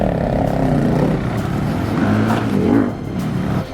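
KTM 390 Adventure motorcycles ride off-road through village lanes toward Merapi, a steady close engine drone that swells briefly as the throttle rises, heard alone without voices.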